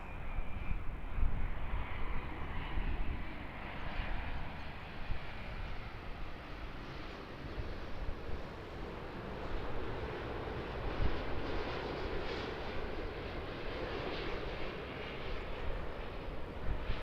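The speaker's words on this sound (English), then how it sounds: "Air New Zealand 787-9 from Fiji." An Air New Zealand Boeing 787-9 arriving from Fiji lands at Auckland, its engines a steady broad roar and rumble heard from a distance, with some wind noise and no talk.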